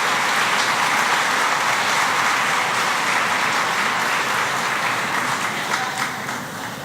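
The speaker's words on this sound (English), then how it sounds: "Please give all our moms a round of applause and a hug." An audience at a mother-son breakfast applauds the mothers, a dense, loud, continuous roar of many hands clapping that holds steady before easing slightly at the end.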